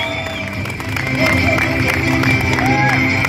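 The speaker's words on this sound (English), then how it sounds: "Let's give them a warm round of applause for the Kids Division 2024." Audience applause at a kids' swimming competition, a crowd clapping and cheering steadily in a reverberant indoor pool hall, growing louder after the first second and holding full for several seconds.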